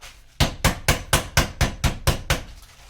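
Chicken breasts pounded thin with a meat mallet for chicken Marsala, eight sharp, loud, evenly spaced thuds in a quick steady rhythm, close up with no talking.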